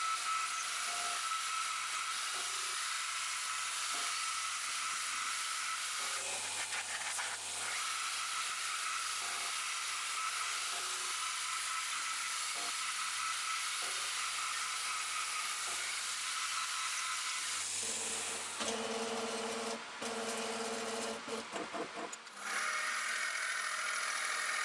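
Steady high-pitched whine and hiss of a milling machine drilling holes in metal, continuous for a long stretch, with brief clunks and a shift in tone near the end.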